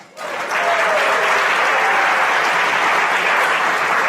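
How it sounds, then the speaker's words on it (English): A festival crowd at the Atlantic Festival breaks into a round of applause, rising quickly from quiet into a loud, sustained, even roar of clapping that holds throughout. "Give yourselves a round of applause"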